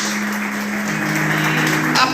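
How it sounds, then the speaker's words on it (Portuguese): Church congregation clapping for the Lord during a sermon, continuous applause at moderate loudness with a sustained low tone, likely an organ or keyboard, running underneath. "Aplauda ao Senhor, queridos."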